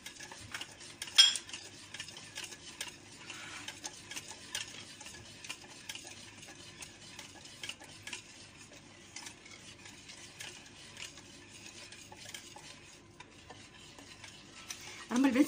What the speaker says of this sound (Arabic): ونقوم على التحريك جيدا